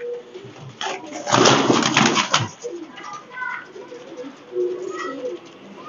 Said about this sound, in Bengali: এইটা একটা টেডি কবুতর।